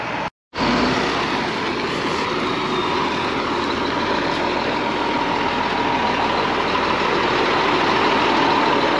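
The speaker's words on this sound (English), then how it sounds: "just keep going straight and let the truck pull the trailer straight in line with you." Semi truck pulling a trailer while maneuvering, its engine droning loud and steady at close range for several seconds after a brief cut at the start, with no talking over it.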